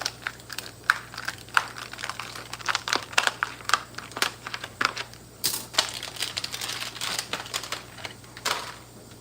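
Plastic packaging on a Marie Callender frozen pie crust being cut open in a home kitchen, a run of close, crisp crinkling and snipping clicks in irregular bursts, with no talk.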